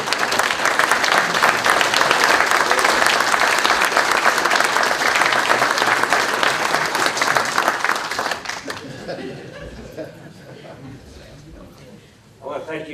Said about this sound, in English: let's have a round of applause for Kitty